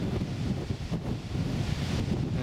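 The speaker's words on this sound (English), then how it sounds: "Very windy." Strong wind blows beside the flooded River Swale at Morton-on-Swale Bridge, North Yorkshire, a loud, continuous buffeting roar across the microphone with no voices.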